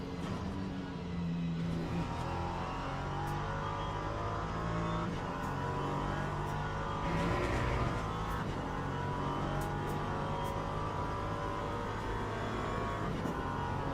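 LMP3 prototype race car lapping Monza in a racing video game, a continuous engine note rising and falling through gear changes, steady and fairly quiet, with no talking.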